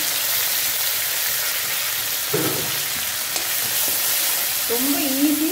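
Green chillies, crushed ginger and curry leaves fry in hot oil in a pan, a continuous close crackling sizzle with a few stirring scrapes and clinks against the metal, no voices.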